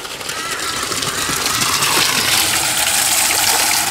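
Water gushes from an aquarium biofilter outlet pipe into a bucket of bio balls, a loud, close, continuous splashing rush that builds slightly and stays steady throughout.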